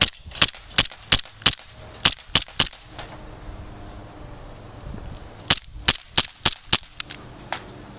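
An airsoft pistol fires a string of sharp, close snapping shots in two quick volleys of about eight and seven shots, the slide locking back after the last round.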